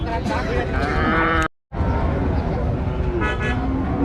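Cattle at a crowded village livestock market before Qurbani give loud moos amid the bustle, with people talking nearby and a vehicle horn tooting.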